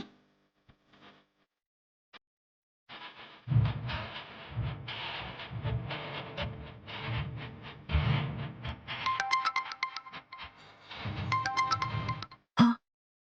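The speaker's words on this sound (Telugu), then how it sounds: "కిడ్నాపర్ ఫోన్ చేస్తున్నాడు" A mobile phone rings with an incoming call in a tense domestic drama scene, an electronic ringtone repeating in bursts after a quiet start, fairly close and clear.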